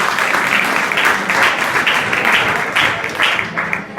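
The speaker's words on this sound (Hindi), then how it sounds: "वेरी गुड, ताली बजाने के लिए।" Students at an inter-college adolescent education program clap together, dense applause in uneven bursts, close and fairly loud.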